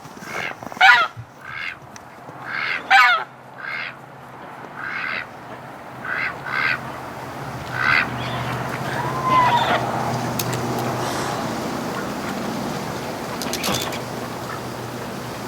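Ducks and geese in a winter pen on a cold, windy, snowy day give loud, separate honks and quacks early on, then quieter calls over steady background noise.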